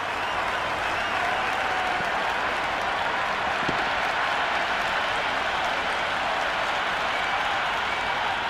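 Cricket crowd in a match between No Name Needed and Hardcore Gooners applauding a big hit, with sustained, dense clapping and a steady roar of cheering that stays loud and even throughout.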